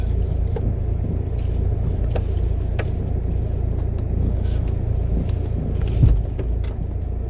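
Land Rover Freelander 1 driving off-road over bumpy ground, a steady close engine and road rumble inside the cabin with rattles and knocks from the bumps and a heavier jolt near the end.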